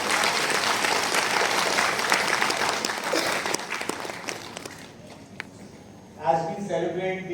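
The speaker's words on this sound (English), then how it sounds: "you all deserve a very loud round of applause" Loud, sustained applause from a large audience at a school annual day celebration fills most of the clip, then fades, and a voice begins speaking over a public address system near the end.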